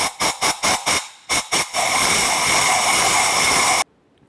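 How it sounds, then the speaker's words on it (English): Compressed air is blown into the spark plug tube of a 2005-2010 Chevy Cobalt. Several short loud blasts come first, then a sustained roaring hiss lasts about two seconds before it cuts off abruptly. "just use some compressed air and blow inside the tube"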